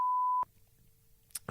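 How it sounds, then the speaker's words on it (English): A loud, pure censor beep tone sounds steadily for under half a second, then cuts off abruptly into quiet room noise with faint clicks. "We'll get your beep thing ready."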